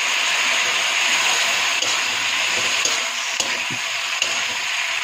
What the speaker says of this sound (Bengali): অল্প জল দিয়ে মশলাকে কষিয়ে নিচ্ছি।